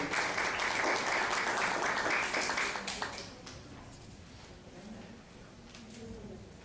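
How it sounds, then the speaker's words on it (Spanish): Audience applause greets a doctor arriving to lecture on family law, loud and dense for about three seconds before thinning into scattered claps with some background murmur. "Recibamos con fuertes aplausos al doctor Fernando Delgado Valdés"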